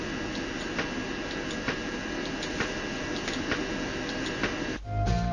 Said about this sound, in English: The ticking you hear is the individual audio samples playing after the breakpoint.